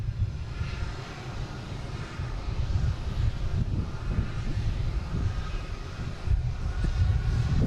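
A Delta Airbus A330-900 jet taking off at Boston Logan airport, a distant low jet-engine rumble heard steadily with some wind buffeting, no speech over it.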